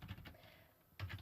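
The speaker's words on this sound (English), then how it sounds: "the other is by actually typing in http" Fingers tap on a computer keyboard in a quiet room, a few soft keystroke clicks in two short bursts separated by a pause, close and faint.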